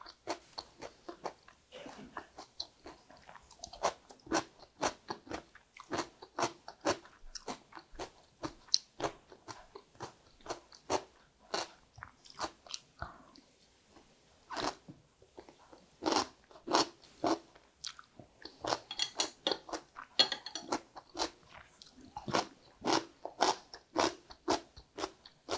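Crunchy cucumber, lightly salted in boiling brine, is bitten and chewed in close, crisp bursts, a long irregular series of snaps and crunches with brief pauses between.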